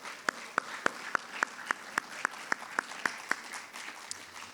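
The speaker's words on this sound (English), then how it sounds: "Let's give him a round of applause." At a school varsity sports awards ceremony, sparse applause for an absent award recipient, a few people clapping in a steady, evenly spaced rhythm, quiet and thin in a room.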